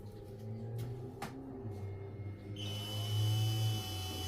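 A power drill whirs steadily close by as it drives into wood for a birdhouse stand, its motor pitch shifting and rising partway through the run.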